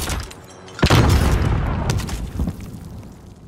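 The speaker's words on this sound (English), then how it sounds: "What was that explosion?" A loud explosion erupts in a shooter video game, a sudden deep boom followed by a long rumbling tail that slowly fades, with a smaller pop near the end.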